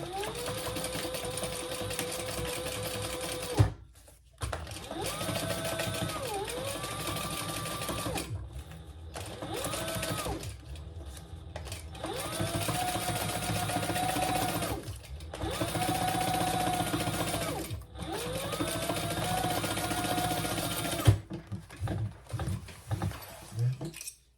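A sewing machine basting the enlarged pockets of a triple sling runs in long steady bursts of rapid stitching, close and prominent, pausing briefly between runs while a person talks quietly over it.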